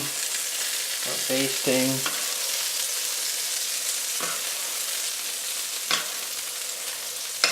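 A steak in a pan is being basted, and it sizzles and fries steadily throughout. Spoon scrapes and a short clatter of utensils come through near the start, and a few spatters sound close by.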